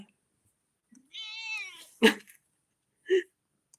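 A stray cat gives one drawn-out, wavering meow, then two short, sharp calls about a second apart, close and clear against near silence.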